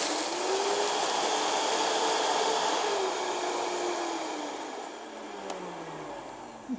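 Roasted rice grinding in an electric grinder on high speed, a loud steady whirring roar close by that holds for several seconds, then eases off slightly in pitch and strength toward the end.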